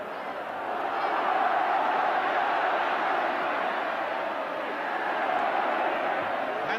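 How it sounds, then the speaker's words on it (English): A football crowd fills a stadium during Brighton and Hove Albion against Liverpool, a dense, continuous roar of cheering that holds steady from a distance. "You should see the crowd down here now."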